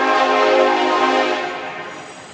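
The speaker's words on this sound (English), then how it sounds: "that was a train" A passing train sounds its horn close by, a loud sustained harmonic blast that fades slowly over about two seconds with rumbling rail noise underneath.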